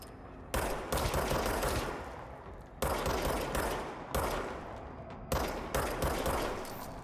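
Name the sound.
gunfire in the video game Control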